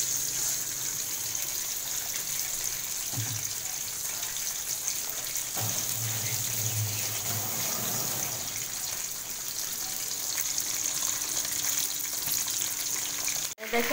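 A constant, close sizzle of chicken roast pieces lightly frying in oil in a wok, with faint clinks and shifts partway through.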